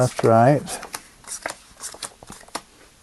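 Playing cards are riffled and shuffled in quick, crisp bursts close to the microphone during a card magic demonstration, with a voice speaking briefly at the start.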